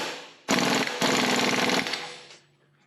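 A wrench tightens the axle nut on a front wheel hub with a loud, close, rapid hammering rattle in two bursts lasting about one and a half seconds, then falls silent.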